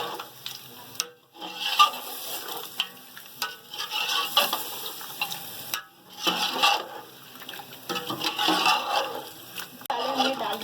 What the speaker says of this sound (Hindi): अब हम इनको मिक्स करेंगे।